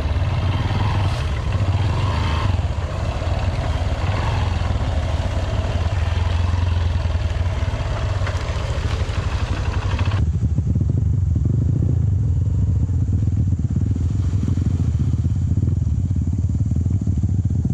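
A motorcycle on a muddy cross-country night ride revs hard with its rear tire spinning in place, making a loud, continuous engine drone throughout that shifts to a rougher, lower roar partway through.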